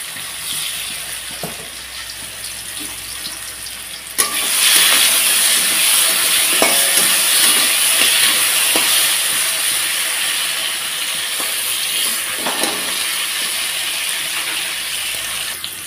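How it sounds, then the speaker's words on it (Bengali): Dried potato pieces frying in hot oil in a pan, a loud steady hiss that surges sharply after a few seconds, with occasional stirring clicks, close and without speech. "তো আলুটা আমার ভাজতে ভাজতে লাল লাল হয়ে গেছে"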